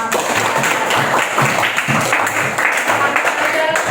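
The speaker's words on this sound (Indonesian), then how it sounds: "tepuk tangan dulu buat bunga" Classmates clap for a student in a classroom, a dense, steady patter of hands from a small group filling the few seconds, with some voices mixed in.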